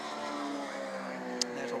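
A BMW Compact race car at Rockingham circuit gives off a steady, moderately distant engine drone with sustained harmonic tones and a brief sharp peak near the end, under commentary.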